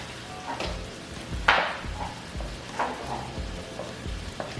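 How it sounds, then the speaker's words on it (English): A spoon stirs a sauce in a pan while it sizzles gently on the stove, making a few scraping knocks against the pan over a steady low frying hiss. "So go ahead and stir that."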